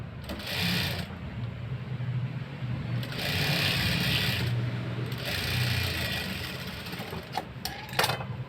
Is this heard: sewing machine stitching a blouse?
yes